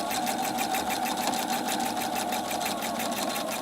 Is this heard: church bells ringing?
no